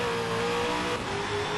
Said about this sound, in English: can hear the back end of the car just squealing as he goes up the top of the hill and loses traction on the crest